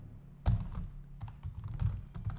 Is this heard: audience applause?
no